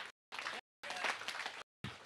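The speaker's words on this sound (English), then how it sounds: "Why don't you give Jess a hand?" Church congregation applauding a woman named Jess during a Sunday service, in broken bursts of clapping with short gaps of silence between them.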